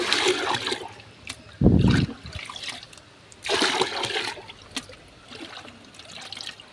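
Rice water is poured back and forth between containers in several separate splashing pours, each a short gurgling stream separated by quieter gaps, close by.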